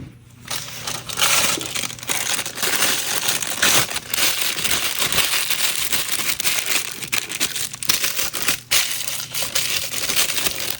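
A plastic 12-inch piping bag holding resin is twisted and knotted, giving continuous close crinkling and crushing plastic rustle throughout, loud and steady with brief dips.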